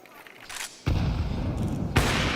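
Gunfire in a Counter-Strike match at the PGL Cluj-Napoca 2025 grand final: a brief crack, then a loud sustained burst of shots with another sharp shot near the end, under the game's ambient noise.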